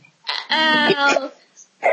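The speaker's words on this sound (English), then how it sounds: "You got the hiccups now." A person hiccups repeatedly in short, loud vocal bursts, three or four in quick succession with brief gaps, close to the microphone.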